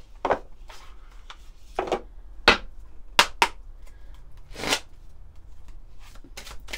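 Oracle cards, an Atlantean shaman deck, being shuffled and handled in short separate bursts of riffles and flicks, with quiet pauses between them and no one talking.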